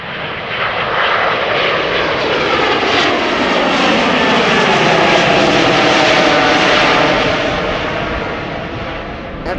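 A loud, close jet roar from an Embraer 175 airliner on the runway at Schiphol Airport, swelling and holding steady before easing slightly, with no voices.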